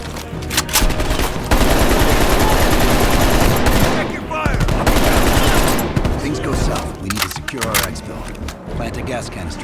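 Sustained automatic gunfire in a Call of Duty Cold War battle, dense rapid bursts firing almost continuously, loud and close, with brief gaps and further scattered shots later.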